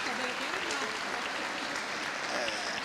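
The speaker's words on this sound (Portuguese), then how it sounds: "vamos dar um aplauso aqui para ela, Eunice" Applause from a church congregation during a service, a steady wash of clapping that fills the whole moment at moderate loudness, with faint voices mixed in underneath.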